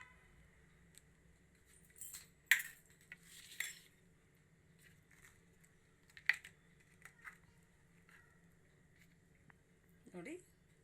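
A spoon clinks against a glass while stirring a diet shake with sabja seeds and almond gum, a few sharp taps scattered between quiet gaps, with soft speech now and then.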